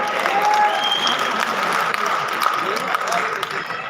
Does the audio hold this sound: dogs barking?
no